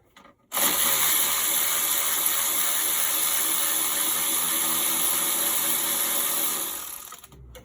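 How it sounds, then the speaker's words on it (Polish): A ratchet spins steadily, loosening bolts on a BMW E39 during alternator removal. It starts abruptly, holds a dense, even whirr close up for about six seconds, then fades out. "Grzechotka w drugą stronę."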